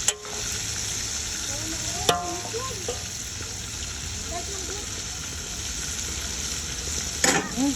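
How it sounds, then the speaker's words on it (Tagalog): Pork chops fry in a hot pan with a constant bright sizzle and crackle, close and steady throughout, with a few clinks of a utensil and someone speaking briefly over the cooking. "ang second batch na salang ng piniritong pork chop"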